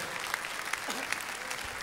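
A crowd applauds for a salsa orchestra and its conductor, sustained dense clapping with a faint voice underneath.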